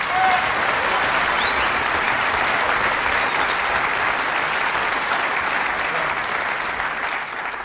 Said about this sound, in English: Can we hear your applause on behalf of Maurice Rose?